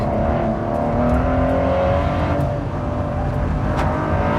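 Supercar engine driving hard on a race track, a steady loud drone with a continuous mid-range tone and no breaks, close and dominant throughout.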